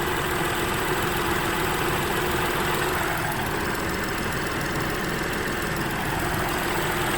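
A 2019 Mini Cooper Convertible's 3-cylinder turbo engine idles with a steady, dense, unbroken drone, loud and close, with no voices over it.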